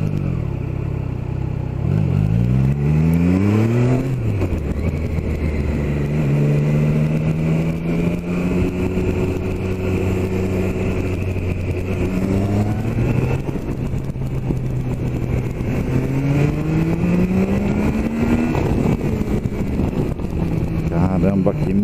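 Small 660 engine of a Nova Tiger Sport revving and accelerating through its gears on a test drive along a sandy road, pitch rising and dropping with each shift, steady and close throughout.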